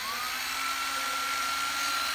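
A cordless 9.6V drill with a 10 mm chuck, a secondhand Japanese unit, runs in its slow mode and gives a steady, fairly loud motor whine with a thin, sustained pitch and no talking over it.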